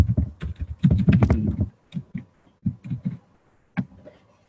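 Typing on a computer keyboard, a quick flurry of close clicking keystrokes followed by sparser, separated taps, heard alone without talk.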